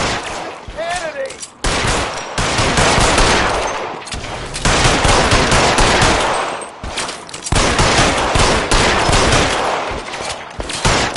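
Sustained gunfire in the L.A. Noire video game, with dense overlapping bursts of shots that run loud and nearly continuous, broken by brief gaps around the two-, four- and seven-second marks.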